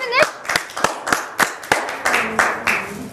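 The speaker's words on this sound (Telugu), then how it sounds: "you can clap also" A few people clap in a loose, irregular burst of about ten sharp claps, close and fairly loud, in an indoor confession-room setting with no talk over it.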